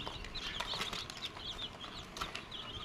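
Partridges and small chicks shuffle and flap inside a coop, with soft wing flutters and scratchy movement over a steady background hiss and a few brief sharp clicks.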